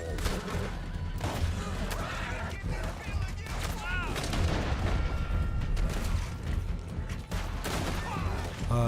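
Gunfire in the online Western game Red Dead Online: steady crackling rounds of shots and mechanical clatter under a continuous bed of game noise, with a voice talking over parts of it.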